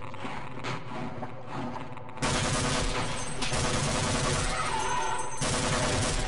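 Rapid automatic gunfire in the video game Half-Life breaks out after a quieter stretch of ambient game noise. A dense, sustained burst of shots keeps going for several seconds.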